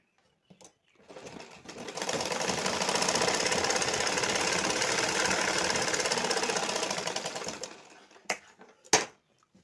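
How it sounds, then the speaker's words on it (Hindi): Sewing machine stitching a folded hem on a blouse, a steady loud mechanical whirring run of about six seconds, close up, with a few clicks and handling knocks before and after. "मोड़ने के बाद आप सिलाई चला दीजिए।"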